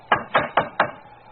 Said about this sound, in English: Let's try the knocker.